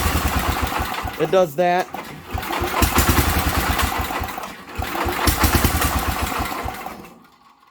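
Engine on a Sears tractor cranking and struggling to start, with a loud, rhythmic, chugging rumble that runs for several seconds, breaks off briefly, then resumes before dying away; someone speaks briefly over it.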